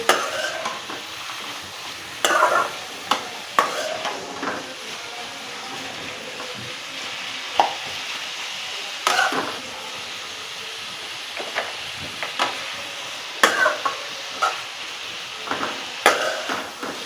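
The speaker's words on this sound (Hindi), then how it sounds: "हम थोड़ा सा इनको चलाएंगे, फिर मैं मसाला डाल के दम पे छोड़ देंगे" Bitter gourd (karela) pieces stirred in a pan make a continuous low sizzle, with intermittent scrapes and clinks of the spoon against the pan over a long stretch.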